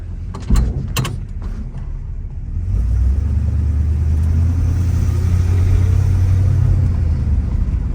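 An old Mopar car on a test drive: a couple of sharp knocks and clunks, then a deep engine rumble that builds and holds steady as the car pulls away.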